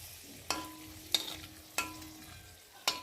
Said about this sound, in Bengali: আর আমি একে শুকনো লঙ্কাগুলো দিয়ে আর তেজপাতা দিয়ে একটু ভালো করে ভেজে নেব।